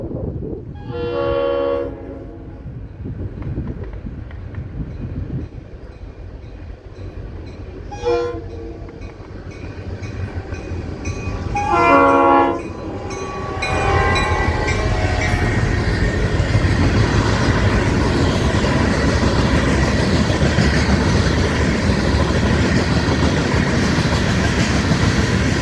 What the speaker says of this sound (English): The local black rock train.